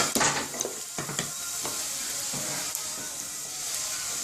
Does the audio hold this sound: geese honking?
no